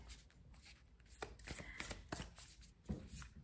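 Tarot cards are shuffled and drawn, a quick flurry of soft, close card flicks and slides, quiet and without talking.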